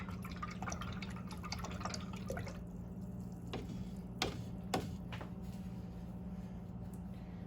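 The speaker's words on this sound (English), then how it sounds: "And I can wash that fan brush." A fan paint brush gets rinsed in water during an acrylic painting session, with faint dripping and a few soft splashes and taps over a steady low background hum.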